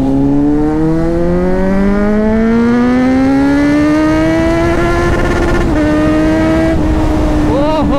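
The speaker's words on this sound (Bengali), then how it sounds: "সুপার বাইকের জন্য ডাউন শিফট মেন, নাহলে ভাই গাড়ি দাঁড় করাতে পারবে না কেউ।" A Kawasaki Z900 superbike engine heard close and loud, its tone rising steadily with a brief break and then dropping as the rider shifts, over constant wind rush.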